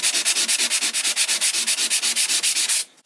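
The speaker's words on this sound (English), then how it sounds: "take the sanding sponge that I told you you would need, and you're just going to sand those ridges down" Rapid, steady scraping of a sanding sponge rubbed back and forth over drywall ridges, about a dozen even strokes per second-long stretch, close and loud, then stopping.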